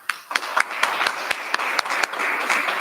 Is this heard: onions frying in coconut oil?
no